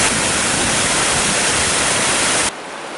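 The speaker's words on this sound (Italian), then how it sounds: "Guarda che bella cascatella che ho alle spalle." Small waterfall beside a mountain track near Arsiè, a steady broadband rush of falling water filling the first two and a half seconds, then dropping abruptly to a softer hiss.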